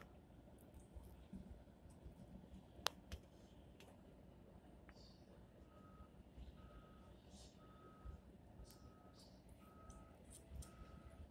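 Snow plow truck backing up in a snowy parking lot: a faint, distant series of evenly spaced reversing beeps over low engine rumble and outdoor background noise, with no clear talking.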